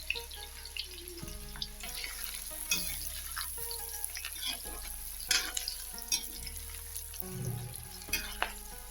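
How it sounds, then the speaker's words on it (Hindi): Finely chopped onion added to hot oil with browned cumin seeds, frying and being stirred in a pan for an aloo matar curry; steady close sizzle with occasional clinks and stirring scrapes, no talking. "प्याज को हम हल्का ब्राउन भून लेंगे।"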